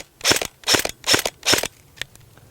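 G&G GR16 Carbine airsoft gun fires on semi-auto, four sharp, evenly spaced shots with mechanical clatter, followed by a couple of faint clicks, close and loud with no talking.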